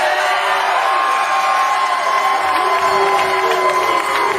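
A crowd at a professional PBA bowling tournament, the Indiana Classic, cheers and whoops loudly and steadily throughout, a dense wall of voices with shouts rising over the roar.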